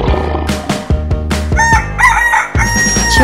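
A cartoon rooster crows over loud, steady background music, the call rising with bright wavering tones midway through.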